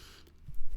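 A single short, sharp cough bursts out loud and close at the very end after near silence.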